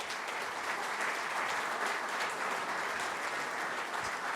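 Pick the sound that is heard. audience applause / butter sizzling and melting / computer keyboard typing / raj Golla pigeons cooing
audience applause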